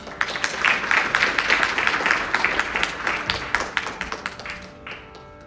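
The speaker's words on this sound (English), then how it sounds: "Please welcome the trio with a warm round of applause." An audience at a CCC cultural event applauds to welcome a music trio with mridangam accompaniment, steady dense clapping that thins into scattered claps and then stops.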